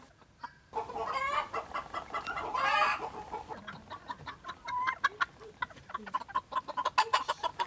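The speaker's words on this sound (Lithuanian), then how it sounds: "Po kiemą vaikšto vištelės." Hens clucking and chattering in an outdoor yard, a busy mix of short repeated calls at moderate distance with some louder bursts.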